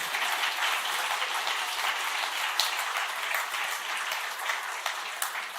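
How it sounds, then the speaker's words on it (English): Audience applause for the contestants at an ICPC programming contest presentation: a dense, steady roar of many hands clapping that holds at an even level throughout, with no voices over it. "Huge round of applause, please,"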